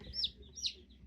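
A black chick or young chicken gives two short high peeping calls, close and fairly quiet, with a low background hum between them.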